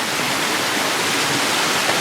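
Waterfall pouring into the East Fork on a backpacking trip, a steady broadband rush of falling water, loud and close, unbroken for the whole stretch with no voices.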